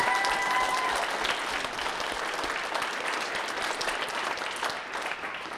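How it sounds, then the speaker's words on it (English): Sustained applause from a large audience at a radiologic technology pinning ceremony, steady clapping for several seconds with a dense, even texture throughout. "Let's give them a big round of applause."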